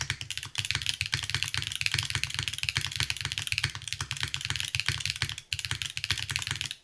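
Rapid, steady clacking of a Qi65 mechanical keyboard typed on with no desk pad, close and continuous with a brief pause near the end.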